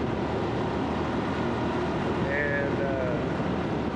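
A motorcycle engine on a test ride, a steady loud droning roar with wind rush throughout; a voice briefly speaks.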